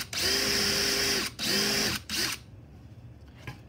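A power drill with a circle-cutting jig bores the sound hole in a ukulele top: three loud whining bursts, the last one short, then quiet.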